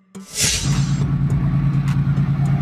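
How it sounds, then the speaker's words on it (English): A freight train's engine starts with a brief hiss, then settles into a loud, close, steady low rumble and drone that pulses slightly as it runs. "Freight train."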